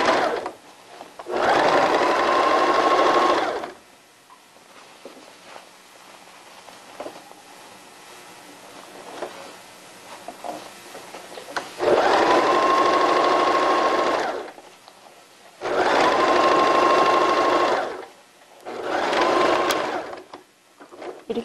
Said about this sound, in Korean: 이럴 때는 당겨가면서 끝 마무리 박음질 하실 때는요, 중심선에 잘 맞춰서 박음질 해주세요.